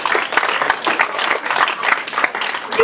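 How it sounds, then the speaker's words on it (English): Audience applause at a live real estate auction, a steady round of dense clapping from many hands that continues without pause, fairly close and loud. "Another big round of applause for Paul Samaras, everyone."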